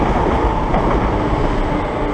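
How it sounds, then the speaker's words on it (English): A passenger train bound for London Bridge roars past at Purley Oaks station, loud and close, a continuous broadband rush of wheels and rails with a rumbling low end and no voices. "It's the London Bridge train"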